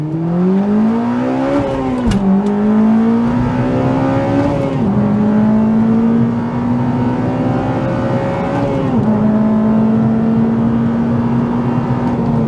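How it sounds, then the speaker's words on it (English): A Honda Civic Type R FD2 with its 2-litre K20 engine pulls hard while driving, the loud steady engine note climbing through the revs, dropping briefly at gear changes near 2, 5 and 9 seconds, then rising again. "So let's take it for a drive and see what the last great K20 Civic Type R is like."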